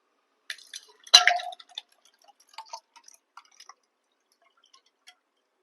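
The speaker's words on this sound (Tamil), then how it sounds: "இதுல வந்து நான் இப்போ ஐஸ் வாட்டர் ஊற்ற போறேன்." Ice water poured into a glass, heard as a short splash followed by scattered light drips and clinks, close and fairly quiet, with no talk.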